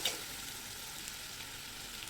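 Ginger, garlic, green chili and coriander paste sautéing on low heat in a pan gives a soft, steady sizzle, faint and continuous with a few small crackles, no voices.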